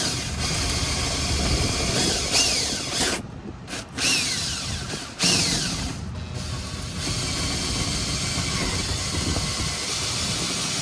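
A power drill with an extended bit bores into a boat's sandwich-board roof, a continuous loud whirring grind broken by a few short pauses, close up throughout.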